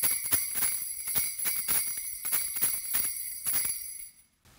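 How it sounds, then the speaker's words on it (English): Jingle bells from a percussion instrument set are shaken in a quick, uneven rhythm of bright metallic tinkles, close and clear. The tinkles stop abruptly near the end. "Jingle bells."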